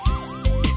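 A cartoon police car siren wails in rising and falling sweeps for under a second, loud and close, from a children's animated rescue-vehicle show with a police car character racing out.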